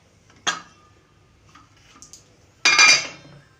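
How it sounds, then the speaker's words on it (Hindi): Cooked dal being mashed and stirred in a pot for a dalia dish, giving two distinct bursts of scraping, clattering metal contact, a short one and a longer one, fairly close with quieter gaps between. "मैं इस दाल को घोटती हूँ"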